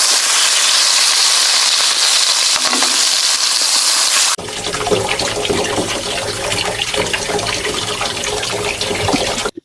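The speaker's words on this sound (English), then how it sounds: "these are sounds for tap water" Steady rushing water pours loudly for a few seconds, then switches to a rougher, clattering spray of water with irregular splashes until it cuts off.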